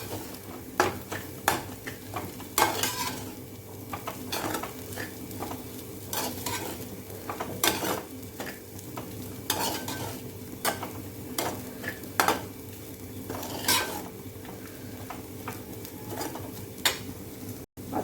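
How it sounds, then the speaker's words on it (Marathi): Kanda pohe (flattened rice with onion) is stirred and sautéed in a pan after salting, with steady scraping and clinking strokes of a spoon against the pan over a soft, continuous sizzle, close and fairly even throughout. "मीठ घातल्यावरती पुन्हा एकदा असं चांगलं परतायचं आहे त्यांना"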